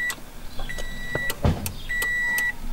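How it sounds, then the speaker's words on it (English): Hazard lights on a Subaru BRZ / Scion FRS fitted with a SmartTAP module: a few sharp relay clicks at a steady pace, mixed with faint electronic beeping tones inside the car. "as you can tell, it's just the normal hazard buttons now. Click, click, not double strobe anymore."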